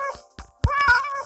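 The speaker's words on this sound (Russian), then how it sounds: "вот видишь, мяукать можно" A kitten in a 3D cat simulator video game gives a short, close meow after a couple of soft clicks, with no talking over it.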